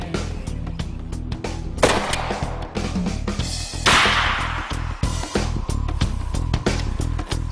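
AK-74 rifle firing 5.45 mm rounds into a test block, a dense series of loud, sharp impulsive shots repeating quickly through the whole stretch with no talk.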